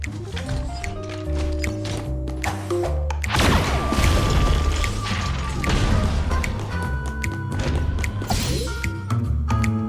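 Bazooka blasts and explosions in the game Honkai: Star Rail, with heavy booming impacts and crashes over a driving soundtrack, the loudest burst arriving partway through and more rumbling hits following.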